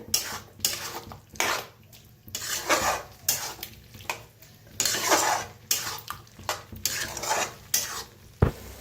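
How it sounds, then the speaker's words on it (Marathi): Spice masala is stirred and dry-roasted in a metal pan, giving repeated scraping spatula strokes against the pan in an uneven rhythm with a faint sizzle underneath, close and without talk. "छान मिक्स करून भाजूया."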